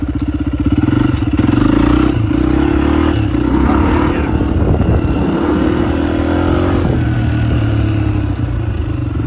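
A motorbike engine runs steadily at close range while sheep are herded, its low droning note rising in a rev early on before settling, continuous throughout with some clatter and no talk.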